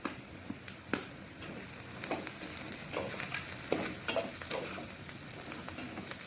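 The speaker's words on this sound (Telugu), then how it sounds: "ములక్కాయ ముక్కలు కూడా ఉల్లిపాయలతో పాటు కొంచెం ఫ్రై అవ్వాలి" Drumstick pieces and onions fry together in a pan for an egg and drumstick pulusu, giving a steady close sizzle with frequent sharp clicks and scrapes of the spoon stirring, and no talking.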